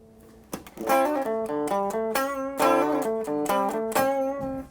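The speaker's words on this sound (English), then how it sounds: "So if you did that same kind of lick on a clean sound, it would sound like this." A clean-toned electric guitar plays a quick melodic lick of plucked notes and double-stops, bright and undistorted, ringing out alone.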